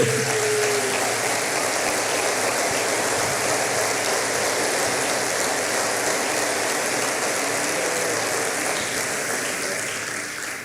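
A church congregation applauds with loud, dense, sustained clapping that fills the whole stretch before tapering slightly at the end.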